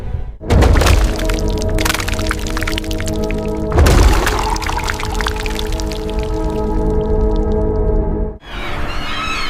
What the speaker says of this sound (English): Pressure ridges grind together, sending vibrations through every underwater chamber.